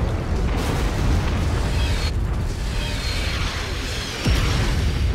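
Artillery shells bursting in MechWarrior 5, Legend of the Kestrel Lancers DLC: a continuous heavy roar of explosions and low rumble, loud and close, with a fresh blast punching through near the end.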